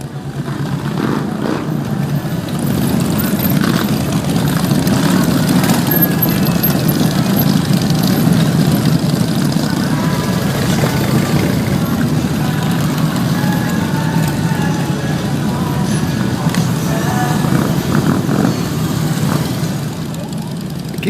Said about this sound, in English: The roar of so many motorcycles all in one place was amazing.